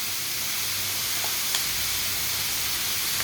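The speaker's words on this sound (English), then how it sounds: "you have to just stir fry them until the ginger garlic paste doesn't smell raw anymore" Ginger garlic paste stir-fried with beef in a pan for pilaf, giving a steady, even sizzle with soft hiss and an occasional faint clink, close and continuous without talk.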